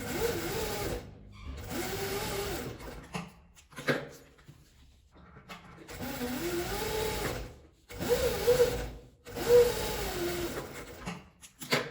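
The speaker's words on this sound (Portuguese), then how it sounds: "Vou costurar aqui bem na beiradinha pra cortar de cada lado." A sewing machine stitches along the edge of a fabric zipper pouch in several close, steady bursts separated by short pauses, with no talking.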